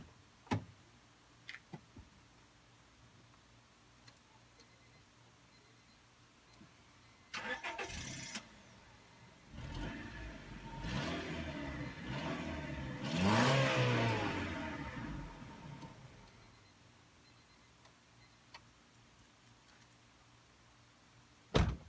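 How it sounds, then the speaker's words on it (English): A 2000 Honda Civic LX engine with stock exhaust starts and runs, its exhaust rumbling and revving up briefly before settling and shutting off, with quiet ticking before and after. "now I'm going to show you the sound of the stock exhaust system and engine"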